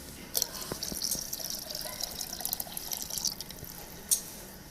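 Milk poured into a mixture for Indian methi lassi gives a faint, light trickling and dripping with a few small splashes, quiet and close with no voices.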